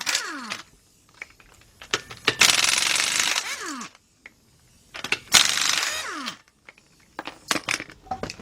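Lug nuts are being removed from the wheels of a 2007 Nissan Murano 3.5 with an impact wrench, giving two loud sustained bursts of rattling hammering between short clinks and metallic handling noises, with no one speaking.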